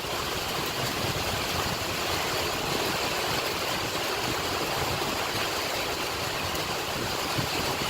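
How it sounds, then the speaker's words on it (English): Heavy rain pours steadily onto a 1990 BMW E30 parked outdoors, a constant dense hiss and roar filling the whole stretch with no letup. "I just do not want to be having rain dumping on us."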